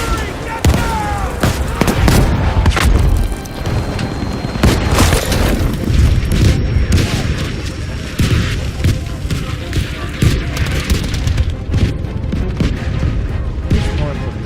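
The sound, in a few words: artillery fire in video game Battlefield 5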